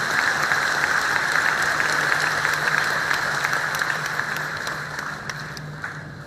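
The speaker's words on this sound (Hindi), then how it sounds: "एक बार जोरदार ताली बजा करके इन सबको धन्यवाद।" A large audience at a Bageshwar Dham Sarkar religious gathering in New Zealand claps loudly together in a dense, steady roar of applause that fades only slightly over several seconds.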